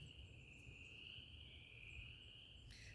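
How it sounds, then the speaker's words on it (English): Spring peeper frogs calling outdoors at night, a continuous high-pitched trilling chorus with a few brief higher chirps, faint and distant, ending in a short burst of noise. "Do you hear them? My peepers."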